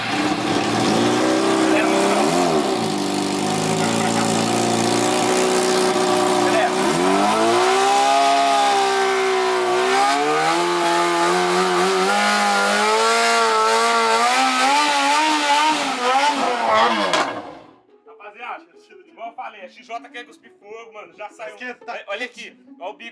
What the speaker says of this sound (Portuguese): Aí a gente já tem que entrar em ação, ligar a moto e começar a jogar ar aqui dentro